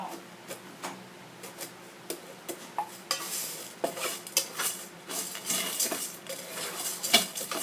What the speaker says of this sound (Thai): คนเบา ๆ ในหม้อ